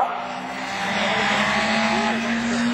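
Honda rallycross race car in a French championship Division 4 event at Lavaré, with a loud, sustained engine howl whose pitch rises and bends, heard from trackside with crowd ambience.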